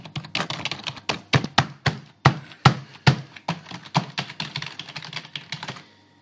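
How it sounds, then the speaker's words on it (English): Mechanical keys clack in quick bursts of sharp, loud keystrokes up close, the rhythm speeding up and then trailing off. "mechanical keyboard. As you can see, you can hear the keys."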